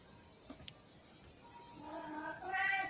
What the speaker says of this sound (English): I'm hearing someone's cat.